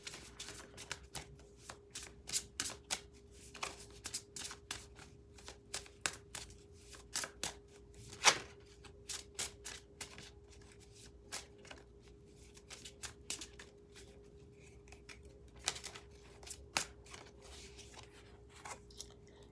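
Oracle cards being shuffled by hand, a run of crisp, close riffling clicks and snaps in irregular bursts, one sharper slap near the middle, over a faint steady hum with no speech.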